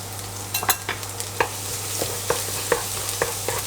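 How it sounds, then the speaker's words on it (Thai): Garlic stir-fried in oil in a pan: a soft, close sizzle punctuated by a quick series of sharp spatula clicks and scrapes against the pan. "เริ่มจากน้ำมันนะครับ แล้วก็กระเทียมนะครับใส่ลงไปผัดเลย"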